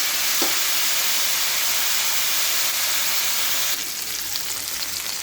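Mixed vegetables fry in oil in a pan for a chire polao (flattened rice pulao). A close, steady hissing sizzle runs throughout and shifts slightly in tone near the end.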